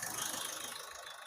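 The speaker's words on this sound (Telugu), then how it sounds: "ఇంజన్ అయితే నేను స్టార్ట్ అయితే చేశాను." A 2019 Ford EcoSport's engine idles steadily and faintly up close, with an even low rhythmic throb and a slight rattle.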